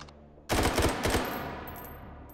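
Gunfire in the VR game Hot Dogs, Horseshoes & Hand Grenades. After a quiet start, a loud burst of rapid automatic shots rings out and leaves a fading echo.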